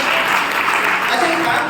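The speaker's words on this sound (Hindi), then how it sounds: "तालियां कौन बजाएगा?" A seated audience at a Brahma Kumaris health talk breaks into loud, sustained applause, a dense continuous clatter of many hands close by, with voices mixed faintly into the noise.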